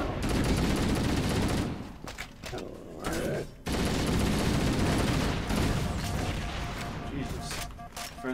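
Friendly fire in a video game comes as heavy, continuous gunfire with explosive crashes layered in, loud and almost unbroken, with a player's voice briefly mixed in.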